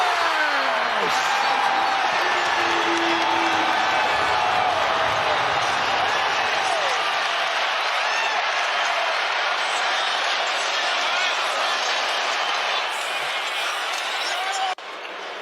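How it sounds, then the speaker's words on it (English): A basketball arena crowd roars and cheers in a steady, dense wall of noise after a made shot, sustained for many seconds with a commentator's voice underneath. "the crowd goes delirious"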